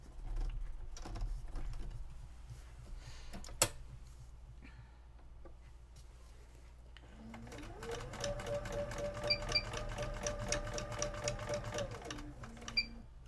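Sewing machine machine quilting: quiet handling and clicks at first, then a steady motorized whir with rapid needle chatter that winds up, runs for about five seconds and slows to a stop, faint and close.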